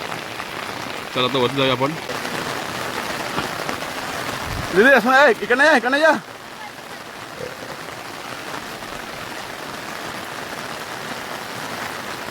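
Heavy rain hisses steadily over a Konkan hill village high on a thousand-foot hillside, a constant close wash of drops on surfaces while people talk briefly and a voice rises above it.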